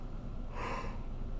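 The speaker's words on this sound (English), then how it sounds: "Oh man, that yawn." A single drawn-out yawn from a man, a breathy rising vocal exhale swelling in the middle, close and fairly loud over a constant low background hum.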